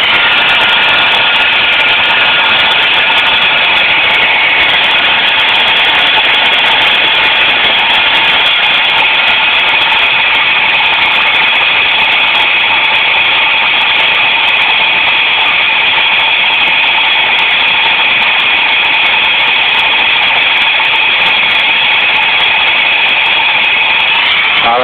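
A car engine runs on four cylinders after a DIY valve cleaning, with one valve held wide open, making a steady, loud, unbroken drone with a bright whine and no voices.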